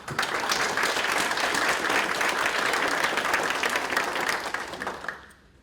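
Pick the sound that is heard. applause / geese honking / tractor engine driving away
applause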